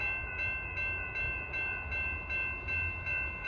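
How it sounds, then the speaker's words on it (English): BNSF train pulling into a station platform, a steady loud rumble with sustained tonal hum and a gently pulsing rhythm, close by with no voices. "BNSF train number 1256 to Chicago Union Station is now arriving"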